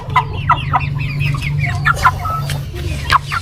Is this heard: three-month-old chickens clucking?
yes